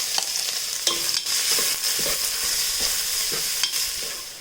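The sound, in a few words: onions being sautéed and stirred in a pan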